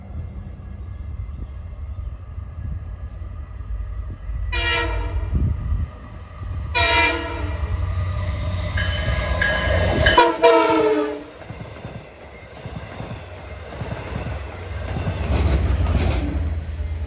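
A Long Island Rail Road Montauk Branch passenger train rumbles close by, sounding its horn in several loud blasts with a brief pause between them, wheels rolling and clattering underneath.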